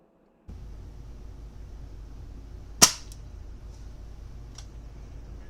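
A single sharp crack from a Diana Model 48 (RWS 48) air rifle firing a pellet outdoors at long range, standing alone over a low, constant wind hiss, followed by faint ticks.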